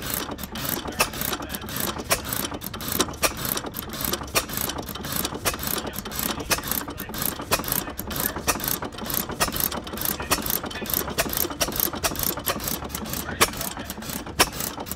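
A small old stationary engine runs steadily with a rapid, even mechanical clatter and ticking, loud and close, with no pauses.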